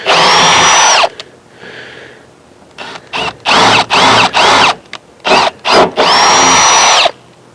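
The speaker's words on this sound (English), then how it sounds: "spin the drill bit backwards to soften the edge before drilling the hole in the fiberglass or the teak" A power drill bores a hole in boat fiberglass or teak. It gives loud whining bursts at the start and end, with a run of short stop-start pulses in between, heard up close.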